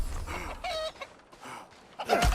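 Several chickens in the video game RuneScape: Dragonwilds cluck and squawk in quick bursts, close and fairly loud, ending with a sharper louder cry.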